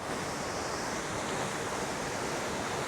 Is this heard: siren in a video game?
no